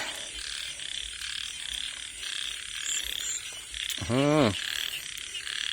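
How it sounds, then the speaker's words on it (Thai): A frog croaks once, short and fairly close, during a night after rain. A dense steady chorus of insects and frogs fills the background throughout. "นำเสียงกบมา"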